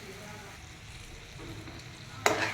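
Cooked potato and okra being mixed in a frying pan: a soft, steady sizzle with light stirring, ending in a sudden louder scrape of the utensil.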